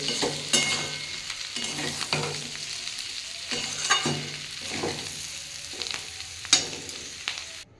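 Fried potato, flat beans and green tomato stirred in a pan, a soft continuous sizzle broken by repeated spatula scrapes and clanks in an irregular rhythm, close and fairly quiet.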